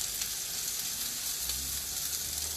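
A sausage patty fries in a pan with a loud, steady hiss and crackle, heard close up and alone, with faint bumps of the pan.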